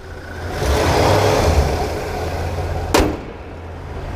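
A rebuilt 4-barrel engine in a 1964 Pontiac Bonneville convertible runs steadily nearby, with a low rumble that swells around the middle and then eases, and one brief sharp click partway through.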